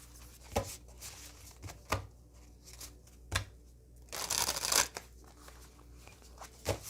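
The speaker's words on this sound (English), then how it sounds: "Let me just give it a back to front shuffle" A new deck of tarot-style cards gets a back-to-front shuffle, with sharp riffling bursts and soft slaps as the cards are cut and tapped, close and crisp, and no talking.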